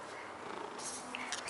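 A contented house cat purrs softly at home, a low, steady rumble that is faint and close, with a little quiet background noise and no clear talking.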